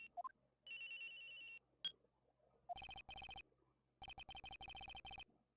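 A cell phone rings in the Phoenix Wright courtroom adventure game, repeated electronic trilling bursts in a quiet scene, with short jingle blips before the rings.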